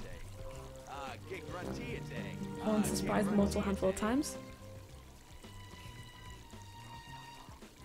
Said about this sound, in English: Oh, where is this water coming from?